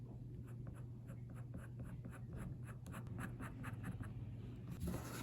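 A pen writes letters on a block-printing carving block in an art studio, giving soft, quick scratchy strokes in a steady stream, faint and close against a low background hum.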